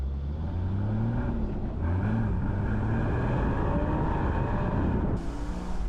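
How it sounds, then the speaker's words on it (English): A Porsche Boxster GTS six-cylinder engine drones loudly and continuously, its pitch rising and falling with gear changes as the car drives past close by. "The fabulous 6-cylinder engine, the noise, the handling."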